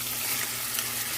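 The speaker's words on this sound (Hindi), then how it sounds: "गार्लिक अच्छे से फ्राई हो गया है मीट के साथ, इसको हमने अच्छे से भून लिया।" Beef and garlic frying in a pot for biryani, a steady soft sizzle with faint stirring noises running continuously throughout, no voices.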